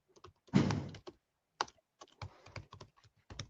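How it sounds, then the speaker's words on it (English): Keys clatter on a computer keyboard in short, irregular bursts of close clicks and taps, with brief pauses between quick runs of typing in a quiet room. "whilst Tosh is typing that"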